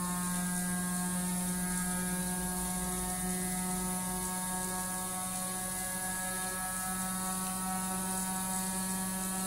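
A battery-powered gyroscope motor spinning up toward roughly 8,000 to 9,000 RPM, a steady loud whine with layered tonal hum and faint mechanical rattle, continuous throughout and alone.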